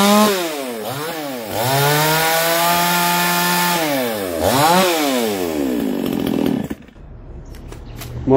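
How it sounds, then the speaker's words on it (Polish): Cheap Chinese-made petrol chainsaw running loud and close, its engine revving up and down in several sweeping surges before cutting off abruptly near the end. "Zwykła chińska piła chodzi tak"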